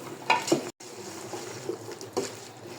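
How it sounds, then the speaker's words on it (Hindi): Cauliflower (gobi) roasting in a home kitchen pan over a gas flame, giving a soft steady sizzle with a few louder stirring scrapes early on and a brief dropout before the quieter frying continues. "चलिए जी, गोभी हमारी भून रही है"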